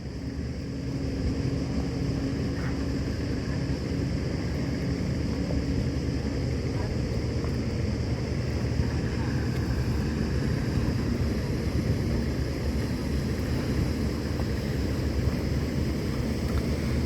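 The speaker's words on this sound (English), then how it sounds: "There's a very helpful motorboat coming through here with all this nice wash on here" A motorboat passing through a harbour, a steady low engine drone and hum with wind noise, continuous and moderately loud throughout.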